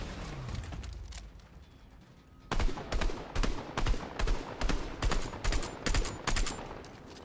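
Fortnite weapon fire with Marvel weapons, quiet at first, then a loud, steady rhythmic burst of close shots repeating about twice a second until the end.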